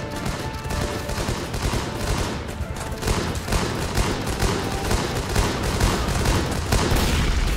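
Continuous, dense gunfire and battle noise in the war strategy game Guns Up!, a steady barrage of overlapping shots and blasts at constant loudness throughout.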